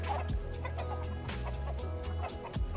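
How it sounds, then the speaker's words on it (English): Chickens in a farmyard enclosure in the zoo game Planet Zoo cluck loudly and continuously, with sharp squawks at the start and end, close and busy. "those chickens are loud"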